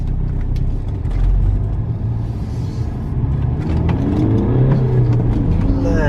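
A tuned BMW E60 accelerates hard, with a loud, steady engine roar and rumble that rises in pitch through the run, heard from inside the car with no talk over it.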